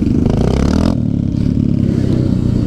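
A Suzuki GS500 motorcycle engine revving hard for a wheelie, a loud, close, continuous throaty roar with a rough rumbling pulse that dips slightly before pushing on.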